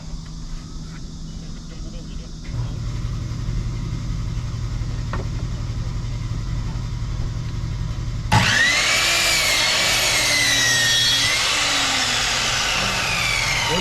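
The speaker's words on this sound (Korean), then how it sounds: "요거는 지금 제가 지붕을 하나 이렇게 각을 줘서 하나 이렇게 해서 이런 지붕 모양을 이렇게 하나 자르고 있어요." A power tool cuts an angled roof piece for a handmade solid-wood birdhouse: a steady motor hum, then a loud, sustained whining cut that begins abruptly partway through and continues to the end, with someone speaking over it.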